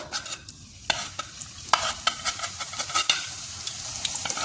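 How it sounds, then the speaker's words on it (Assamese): Nimki dough pieces bubble and sizzle steadily in hot oil over a low gas flame, a dense crackling hiss broken by sharp bursts and clatters as the pieces are stirred and added one after another. "বাকীকেইটাও মই এনেকৈ তেলতে দি যাওঁ"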